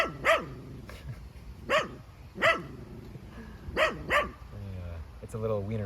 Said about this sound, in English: It's a little wiener dog